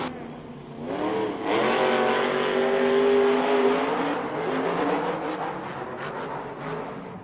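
A monster truck engine at a Monster Jam World Finals arena show roars and revs up, rising in pitch, then holds a loud sustained note before easing off, under a crowd and an announcer's voice.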